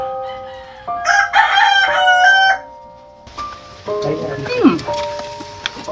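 A rooster crows twice nearby, long and loud, each crow rising and then falling away, with rain falling behind it and a brief voice between the calls.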